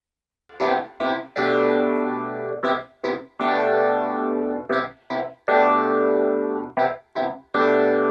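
Main vamp with clavinet and Rhodes playing in unison, a loud, blended rhythmic keyboard stack in short chopped stabs alternating with longer sustained chords, no voices.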